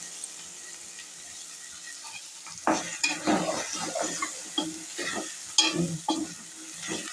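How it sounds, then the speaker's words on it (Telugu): Okra pieces stirred in hot oil in a pan for a curry: a soft frying sizzle under repeated close scraping and tossing strokes of a spoon, growing busier after a quiet start. "నూనెలో వేసుకొని మంచిగా కలుపుకొని ఇవి కూడా కొంచెం మగ్గాలి"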